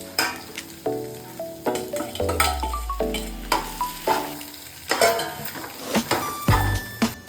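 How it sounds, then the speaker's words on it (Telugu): Potatoes sizzle and fry in a pan with chili powder and salt, a spoon stirring and scraping against the metal in an irregular rhythm, loud and close with no talk. "ఇప్పుడు ఆలుగడ్డలు వేసుకుంటాం."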